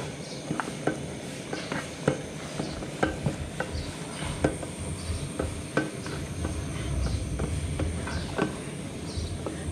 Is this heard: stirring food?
yes